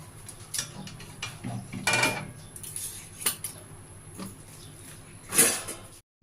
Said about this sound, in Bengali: এখন আমি মাছের মাথা দিয়ে লাউ ঘন্টটা ঢেলে নিচ্ছি